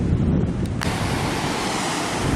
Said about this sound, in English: Light breeze, sunny weather, low roar of the ocean to my left